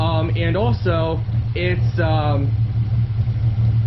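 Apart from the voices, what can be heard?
Ford Mustang 4.0 V6 engine idling with idle chop mod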